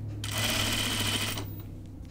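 A sewing machine stitches a shirt dress seam, starting after a brief pause and running steadily for just over a second, close and clear, then stopping, with low room hum around it.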